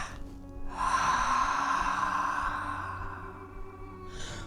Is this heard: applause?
no